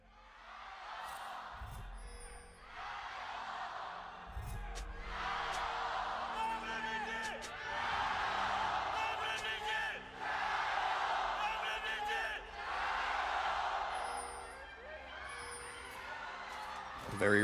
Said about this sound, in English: Very riled up crowd for game number 1.